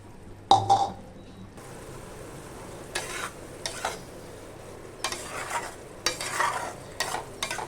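Ginger, garlic, green chilli and tomato paste sautéed in a pan for a hilsa head and taro dish, a soft steady sizzle broken by repeated bursts of spatula stirring, with a clatter at the start.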